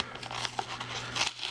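Plastic packaging on a steel T-Rex model kit being peeled back by hand, a few close crinkling and tearing bursts, quiet and uneven, with no speech.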